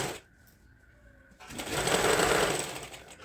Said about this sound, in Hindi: एक सिलाई और लगा लेती हूँ साइड में।